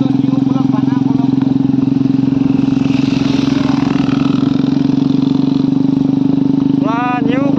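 A brand-new motorcycle rides along a rough village road, its engine holding a loud, steady droning hum up close, with a voice briefly cutting in near the end.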